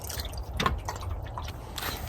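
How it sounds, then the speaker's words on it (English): Coolant poured into the radiator of a Dodge Ram 1500 with a radiator leak, heard as soft, irregular splashing and glugging trickles, close and fairly faint. "I just poured coolant into the truck."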